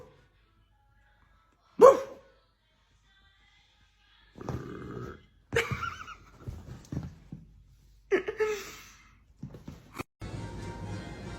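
A pet dog gives short barks and huffs in scattered bursts, close by and separated by quiet gaps, while a person nearby seems to imitate barking at it.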